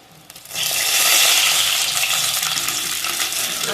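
Chicken leg pieces for tangri lollipop sizzle loudly in hot oil, a dense, steady frying hiss that swells in after a brief quiet start and carries on without a break, with no talk over it.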